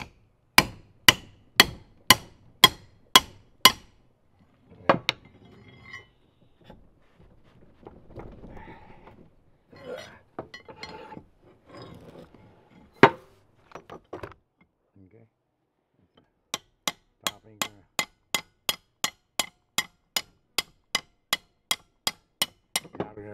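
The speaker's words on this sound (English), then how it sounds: "Now smack that bar until you get a little more room." Steel hammer blows on a pry bar wedged against a hydraulic cylinder of a 1960s forklift: a fast run of loud, sharp metallic strikes, then a stretch of speech and shop noise, then a second, steady string of evenly spaced hits.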